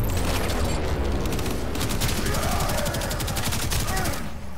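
Enemy gunfire in Warframe on the Plains of Eidolon, a dense, loud volley of rapid shots rattling continuously for several seconds amid booming impacts.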